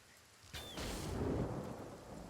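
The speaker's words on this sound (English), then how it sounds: "but it is raining" Steady rain in the video game Divinity: Original Sin pours down with a rumbling wash of thunder, starting abruptly after a quiet moment and holding at a constant, enveloping level.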